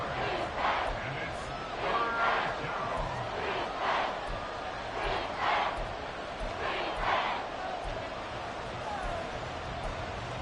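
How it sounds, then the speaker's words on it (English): A football stadium crowd roars and cheers on its feet after a big play, a dense, loud wall of voices that swells in repeated waves across the whole stretch. "Crowd on their feet."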